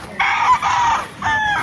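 Roosters and chickens call on a farm in Bulacan, with two close, loud crowing and clucking bursts separated by a short gap and no talking.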